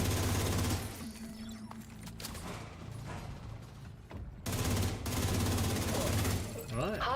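Automatic weapons fire in The Division 2 video game during a skate park battle in Brooklyn comes in loud, dense bursts separated by a quieter stretch, with voices talking over the action.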